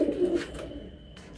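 Andhra pigeons give a brief, low coo up close, a short soft burst that trails off into quiet.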